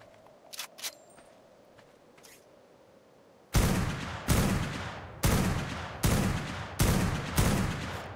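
Shots fired in Ark: Survival Evolved, beginning with a few faint distant pops, then six loud, evenly spaced blasts close by, each with a short decaying tail, and no talking.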